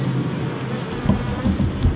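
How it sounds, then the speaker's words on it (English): Honey bees buzz in a dense, continuous drone at a nucleus hive, close and fairly loud, with slight swells as individual bees pass near. "She's being fed by some other bees"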